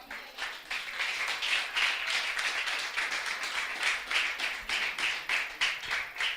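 Church congregation giving a round of applause during a Lord's Supper service, rhythmic unison clapping in a steady beat, moderately close and fairly even in loudness, with no talking over it.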